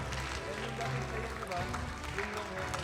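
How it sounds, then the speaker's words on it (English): An audience at the M5 World Championship knockout stage applauds in a steady wash of clapping and crowd noise, with a voice talking over it. "let's give them a big round of applause."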